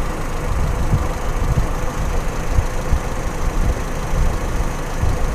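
A Toyota Kijang Super engine runs during a tune-up, producing a loud, close, steady idle with a rough, uneven low-frequency pulsing throughout and no talk over it.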